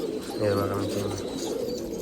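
A racing pigeon with a ring gives a low, soft coo, close by, while someone speaks briefly over it.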